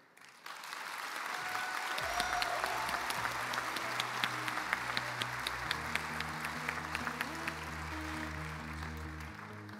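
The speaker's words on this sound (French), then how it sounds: "je vous prie d'applaudir cette belle promotion d'IONIS STM" A large hall audience applauds a graduating class at a diploma ceremony, sustained dense clapping that swells in and holds steady, with a low musical drone underneath.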